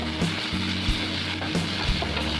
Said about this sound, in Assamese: 1-2 মিনিটৰ কাৰণে ভাজি থাকিম।